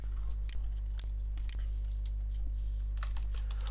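Someone types on a computer keyboard, with light, irregular key clicks and a few sharper taps over a steady electrical hum, close and fairly quiet, no voices.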